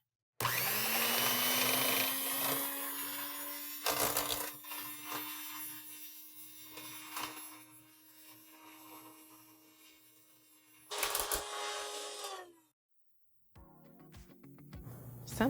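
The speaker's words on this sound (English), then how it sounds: "So we're just whipping it until stiff peaks form, to where when you lift up the mixer, the whip starts to lift up with it." An old electric hand mixer whips cream toward stiff peaks in a home kitchen, a loud continuous motor whine with a steady hum that cuts out briefly, then restarts near the end.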